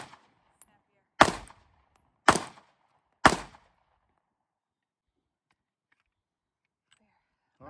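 Three sharp, close Canik MC9 Prime pistol shots at an outdoor range, spaced about a second apart, each a loud crack with a short tail, followed by quiet.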